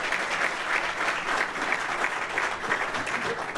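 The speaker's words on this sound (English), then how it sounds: "So a round of applause for Mike." A large indoor audience claps steadily and loudly for a speaker at an Elm Street redevelopment and preservation project event, the applause continuing unbroken without talk.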